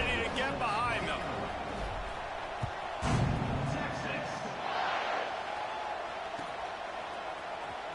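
College football stadium crowd roaring before a kickoff in a Texas playoff game, a broad, distant wash of cheering with a sharp thump partway through, under a commentator's voice.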